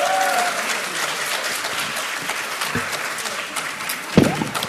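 A crowd claps steadily throughout, with a brief louder burst near the end, at a political talk event as a lawmaker is introduced.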